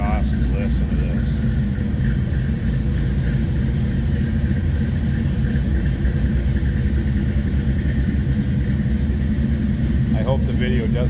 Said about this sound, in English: I love this with this side exiting exhaust.